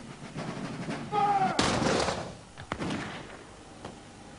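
A volley of gunpowder muskets fires in a sharp broadband burst followed by scattered cracks and echoing thuds, moderately distant, with a brief tonal whine beforehand.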